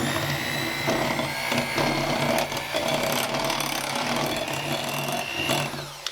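Electric mixer beating root beer cupcake batter, a steady loud whirring drone with a continuous motor whine that runs without a break throughout, close by.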